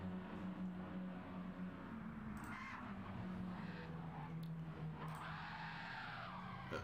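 Racing cars in the Flat Out Racing game slide on loose tires, steady engine drone underneath with several squealing skids rising and falling, no voices.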